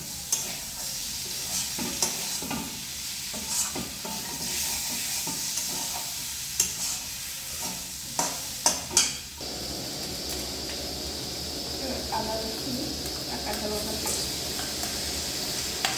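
Prawn and potato curry mixture being stirred and sautéed in a pan: continuous sizzling with repeated clinks and scrapes of a spatula, the frying growing louder and denser midway.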